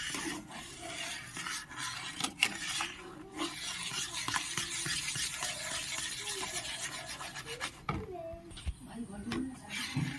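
Milk is stirred in a pan for langcha, a continuous scraping and rubbing of the utensil against the pan, close and fairly quiet, with a few brief clatters partway through.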